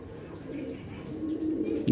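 Madrasi high-flying pigeons coo in a steady low murmur, fairly faint, with a brief chirp near the end.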